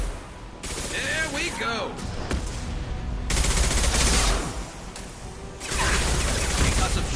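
Video game gunfire arrives in loud bursts of rapid shots with mechanical clatter between them, and someone speaks briefly partway through.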